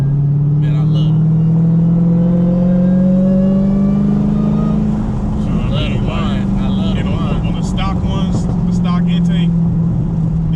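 A Dodge Charger R/T with a supercharger and B-Woody intake revs loudly up and then holds a steady roar, heard from close by inside the car, with voices talking over the engine.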